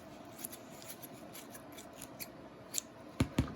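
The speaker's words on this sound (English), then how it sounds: "So I'm gonna just cut some of it down" Scissors snip through Dollar Tree craft netting in a series of small crisp cuts, close and quiet, with sharper snips toward the end and no talking.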